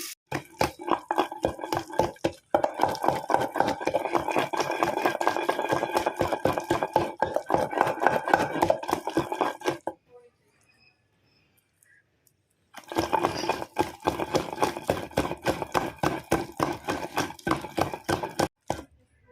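Green chillies, cumin, garlic and sesame seeds ground by hand in a stone mortar, a loud continuous gritty scraping with steady rhythmic strokes, a pause of a few seconds, then the grinding resumes.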